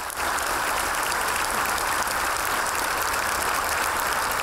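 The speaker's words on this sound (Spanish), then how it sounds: "Entre ovaciones y aplausos" A large crowd of workers gives a sustained ovation at a farewell for a departing company president, with dense, loud, even clapping throughout and no talking.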